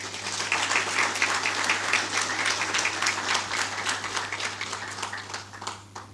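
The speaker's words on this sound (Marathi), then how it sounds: "एकदा त्यांच्यासाठी टाळ्या." Warm, sustained clapping from a small gathering honours M B Kulkarni at an emotional family ceremony, a dense, even patter of many hands running steadily for about six seconds over a faint low hum.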